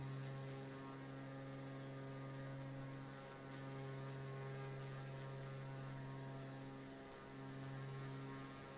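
A propeller plane flies low through a canyon in a flight simulator game, its engine a steady, even drone with strong tonal harmonics and a slight swell and dip, continuous and unbroken with no voices.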